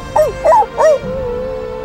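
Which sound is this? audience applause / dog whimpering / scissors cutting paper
dog whimpering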